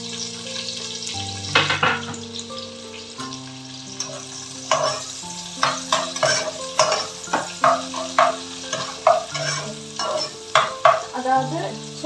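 Onions frying in hot oil in a pan while cooking chana gravy, a steady loud sizzle with repeated stirring scrapes throughout, no talking.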